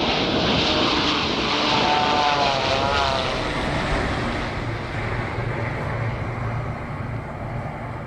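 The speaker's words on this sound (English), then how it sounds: "try to blend the sound from the Air India Boeing 787 with this 787" Boeing 787 airliner on approach to land, a steady broad roar of engine and rushing air that swells slightly and then holds, heard alone with no voices.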